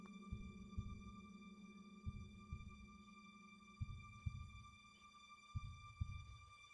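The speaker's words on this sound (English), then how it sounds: "And your heartbeat begins to beat loudly in your own hearing." Loud, low heartbeat effect thumping in paired beats, lub-dub roughly every one and a half seconds, over a steady electronic hum with no talk.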